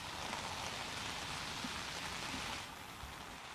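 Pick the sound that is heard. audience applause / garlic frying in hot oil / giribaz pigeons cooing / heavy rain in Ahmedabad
heavy rain in Ahmedabad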